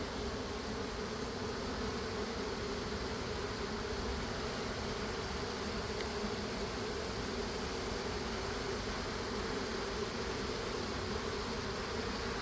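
Honeybees fanning at the hive, with the workers raising their rear ends and beating their wings. They make a dense, steady buzz that holds at the same level throughout, close and continuous.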